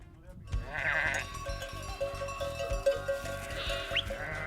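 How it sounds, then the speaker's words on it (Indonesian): A flock of about 80 sheep in Turkey bleats while being driven back to the pen in the evening, several overlapping close bleats over a steady tonal background. "Sore telah tiba, saatnya menggembala domba kembali ke kandang"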